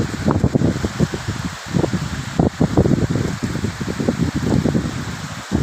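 Rain patters and drums in irregular bursts on a nearby surface, heard from inside a farm shed: a close, uneven spattering that continues without pause and without speech.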